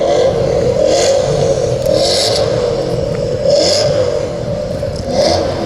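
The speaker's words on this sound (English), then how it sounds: "The revs from the Ford GT." A Ford GT supercar revs at a classic and supercar show, its loud engine note rising and falling in several bursts over steady crowd and outdoor ambience.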